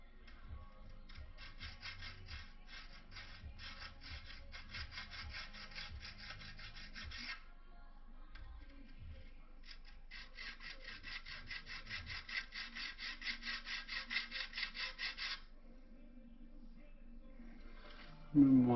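Rasping strokes of a file on stainless steel trim from a Holden HT Monaro, in two long bursts of steady back-and-forth scraping, with quiet gaps between them and a brief clunk at the end.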